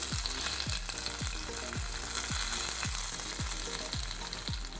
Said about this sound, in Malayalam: നമുക്കിതൊന്ന് ഈ ഉണക്കമീൻ കറിയിലേക്ക് ഇട്ട് കൊടുക്കാം